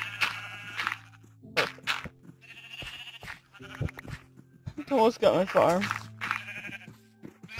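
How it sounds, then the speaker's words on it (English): Minecraft sheep bleat several times, close and fairly loud, with a person talking over and between the calls. "It almost got my sheep."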